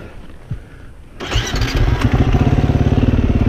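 A motorcycle engine starts abruptly and settles into a loud, steady, pulsing idle close by, after a moment of quieter background.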